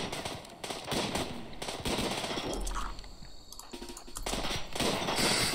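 Gunfire in the video game RimWorld, played with the Zombieland mod: a sustained stretch of overlapping rapid shots and bursts with pops and crackles, fairly loud and continuous throughout.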